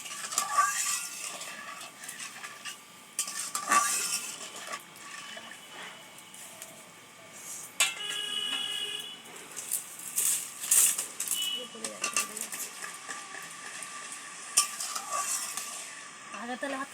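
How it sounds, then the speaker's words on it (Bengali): Sugar syrup for gulab jamun boiling in a pot, a steady bubbling hiss broken by occasional stirring scrapes and utensil clatter, heard close with a voice talking intermittently. "চিনি শিরা ফুটে গেছে।"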